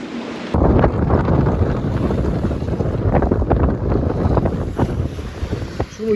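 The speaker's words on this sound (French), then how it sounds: "Coup de vent du nord, là." A strong north wind gusts across a sailboat anchorage with whitecaps on the sea, roaring loudly into the microphone in a continuous buffeting rush that begins abruptly and surges unevenly, with no one talking.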